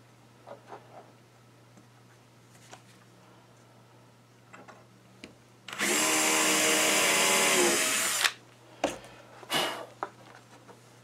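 Power drill driving a long screw into wood while building a sunglasses hanger, a single loud buzzing run of about two seconds, with quieter handling clicks and knocks before and after.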